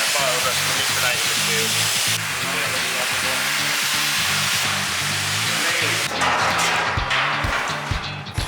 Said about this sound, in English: They're getting welded back on now.